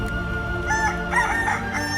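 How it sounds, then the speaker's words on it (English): A rooster crows in a bright, strained cry, heard fairly close over a steady background hum. "when the rooster crows twice, he will deny him 3 times"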